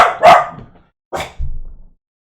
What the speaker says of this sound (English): I have a dog. He likes to bark.